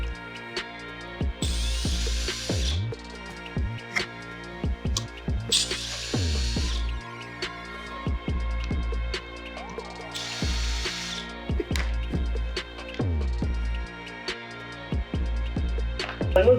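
A power drill backs screws out of a CarbonMiata grille on a Mazda Miata in repeated whirring bursts, each followed by ratcheting clicks and the clatter of parts, close and loud, with no talking.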